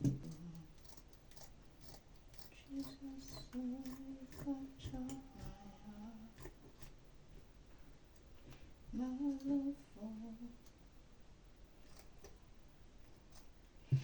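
Scissors trim a fabric square for a baby-dress butterfly bow, giving a few soft close snips in two short bursts amid quiet room noise, with no talking.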